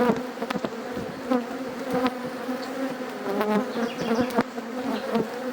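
Honey bees buzz in a strong colony during a hive inspection, a close, steady drone with individual bees whining past near the listener and small knocks from the hive.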